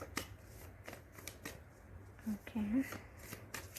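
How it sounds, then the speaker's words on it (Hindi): A deck of tarot-style cards is shuffled in several quick riffling bursts, crisp and close, with a soft hum and a brief spoken word in the background. "अच्छे से शफल कर लेते हैं।"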